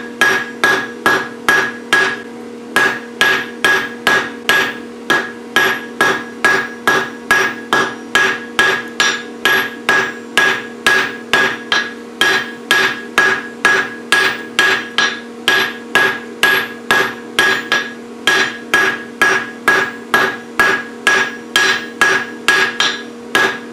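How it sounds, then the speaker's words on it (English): Blacksmith hammering hot steel on an anvil to draw out the legs of a heart hook: a long, steady run of loud, evenly spaced ringing hammer blows, close up and with no voices. "I'm going to draw out each leg to the width of the anvil."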